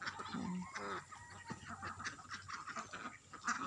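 Muscovy ducks, brown-feathered farm birds, giving a few soft, quiet calls and hissy murmurs over a faint background, with small scattered sounds of birds moving about.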